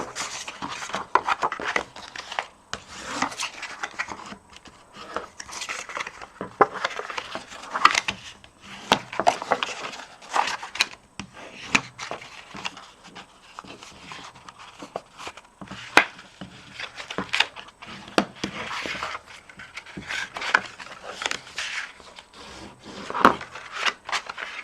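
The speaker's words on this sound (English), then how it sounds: "I'm just going to go ahead and burnish those folds" Bone folder rubbed firmly along the paper folds of a small treat box, giving repeated short scraping and rubbing strokes at close range, uneven in rhythm, with no talking.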